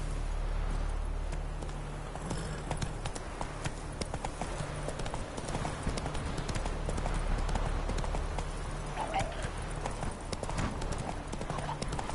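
Hooves of the horse Roach galloping in The Witcher 3: Wild Hunt, a steady rapid clip-clop that runs throughout at moderate volume.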